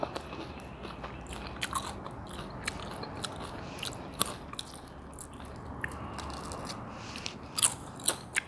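Crunchy bites into a crispy, freshly fried homemade spring roll, close and fairly quiet: a dense crackle with several sharper crunches, growing stronger near the end, and no talk.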